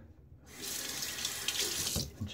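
Tap water runs steadily into a sink for about two seconds, a close, continuous splashing gush while a shaver adds water to shaving lather during a wet shave with a Gillette Sheraton razor and Semogue 20 brush.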